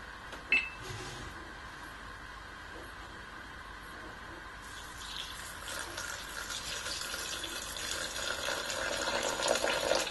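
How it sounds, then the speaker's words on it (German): Water poured into a Thermomix TM31 bowl for potato roll dough, a steady rushing pour that starts partway through and grows slightly louder toward the end, with kitchen background. "Jetzt kommt Wasser, 200 Gramm."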